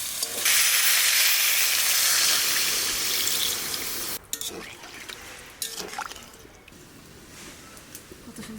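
Water goes into a frying cauliflower, potato and green pea curry: a loud hissing sizzle bursts up, then drops abruptly to a softer bubbling hiss with scattered clinks and faint voices in the background.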